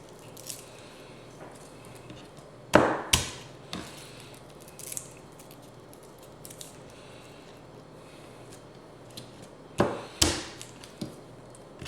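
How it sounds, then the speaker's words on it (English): A knife crushes and chops peeled garlic cloves on a cutting board: a couple of sharp, close thwacks early on, scattered lighter taps, then another pair of firm chops, with no voices. "Take our garlic, mash it up, get the peel off."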